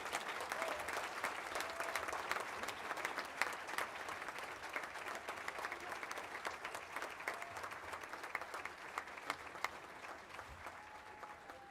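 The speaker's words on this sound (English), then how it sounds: "So let's give them a big round of applause." Applause at a basketball hall of fame women's awards banquet honoring inductees, a steady wash of many hands clapping throughout, fairly even and sustained with a faint murmur of the crowd underneath.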